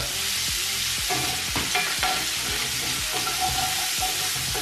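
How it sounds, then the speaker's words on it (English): Sweet red pepper and chopped garlic sizzle loudly in a pan for a Cajun stuffed chicken dish, with a steady frying hiss broken by repeated scraping stirs and utensil knocks. "Just gonna add our sweet red pepper and our chopped garlic. Give it a good old stir."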